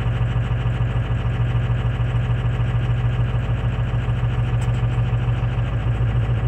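A 2005 diesel truck engine idles steadily after a cold start, a loud, close, even mechanical clatter with a constant low rumble and no interruptions.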